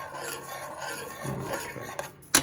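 Fresh nutmeg rasped against a grater in close, repeated scraping strokes, a dry gritty rubbing that swells and fades, ending with a sharp tap, no voices.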